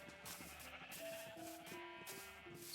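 Several sheep bleat in a Minecraft sheep pen, with overlapping wavering calls sounding one after another, fairly close and continuous across the moment.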